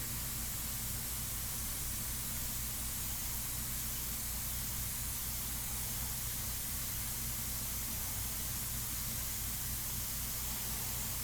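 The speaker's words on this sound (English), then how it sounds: "sorry about the compressor." An airbrush air compressor runs continuously, a quiet, even hiss over a low mechanical hum that holds steady from start to finish, with no talking.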